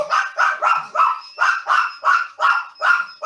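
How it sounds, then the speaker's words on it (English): A small dog barks repeatedly indoors, eight sharp, evenly spaced yaps close to the microphone with a bright, high-pitched edge, no talking over them. "Sorry, my dog's so noisy."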